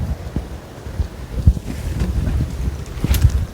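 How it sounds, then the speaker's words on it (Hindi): Strong storm wind gusts suddenly across a hillside house rooftop during heavy rain, buffeting the microphone in rough, uneven bursts of low rumble. "अचानक से ही एकदम तेज हवाएं चलने लग गई।"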